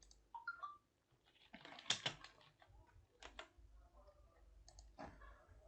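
Keystrokes on a computer keyboard come in short irregular bursts of clicks and taps, close and fairly quiet, with brief pauses between runs.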